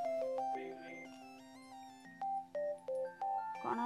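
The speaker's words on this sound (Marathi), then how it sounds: "कोणाचो आनी फोन आयलो काय" Incoming-call ringtone on a mobile phone, a bright electronic melody of tones that ends in a few short repeated beeps, heard alone and fairly quiet.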